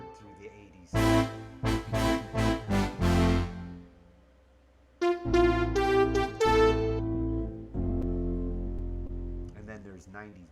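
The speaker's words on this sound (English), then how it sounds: "these are the brass sounds you heard through the '80s." Stabbing 1980s-style synth brass played on a keyboard: a rapid run of five or six punchy chords, a pause, then longer held brass chords with bright, buzzy harmonics, loud and close with no talking.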